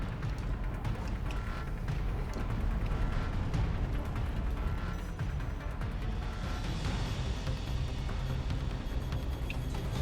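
Gunfire strikes the player's ship in a space combat game, making a dense, continuous rumble of explosive impacts and mechanical noise that stays loud and unbroken throughout.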